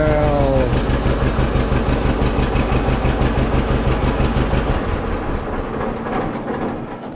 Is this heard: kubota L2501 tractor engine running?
yes